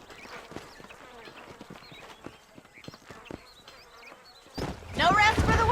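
Horse hooves clip-clopping at a steady walking pace in the western video game Red Dead Redemption, with faint insect buzzing around them and voices speaking toward the end.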